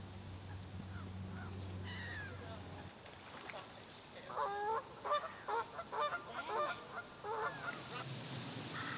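Geese honking beside a lake, a run of harsh, repeated calls at moderate distance over a low outdoor hum, with busier overlapping honks in the second half.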